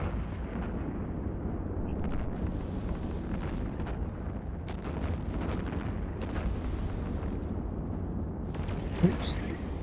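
The guns of a Paladin Marauder ship in EVE Online fire in a rolling series of deep, rumbling booms over a continuous low drone, with someone speaking briefly partway through.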